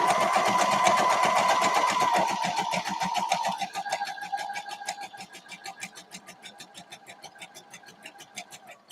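Sewing machine running a straight stitch through vintage Sunbonnet Sue quilt blocks, a fast even motor whir that slows into distinct rhythmic needle clacks, close and clear.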